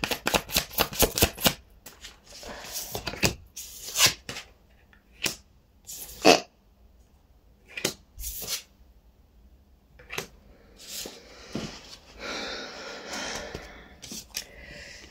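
Tarot cards are shuffled for a daily draw. Close riffling and flapping bursts repeat, with brief pauses between them, and there is no talk.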